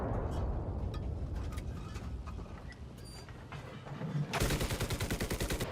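Rapid bursts of gunfire in the video game Enlisted as a tank is destroyed, with sharp shots scattered early, then a loud, fast rhythmic stream of automatic fire close by toward the end.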